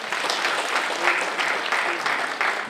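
Audience clapping at a community union fundraising and launching event, steady mid-level applause from a crowd with faint murmuring voices underneath.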